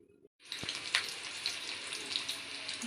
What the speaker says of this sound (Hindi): ये प्याज तली हूँ।